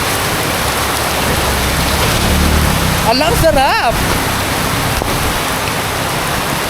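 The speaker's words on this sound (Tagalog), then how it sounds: "makakaligo na tayo ng malakas ang ulan" Heavy rain pours steadily throughout as a dense, constant hiss, with a person briefly speaking over it in the middle.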